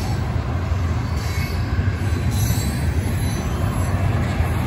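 A Union Pacific freight train with stack cars rolls past close by, a loud, continuous rumble of wheels and rail noise with faint squealing, steady throughout.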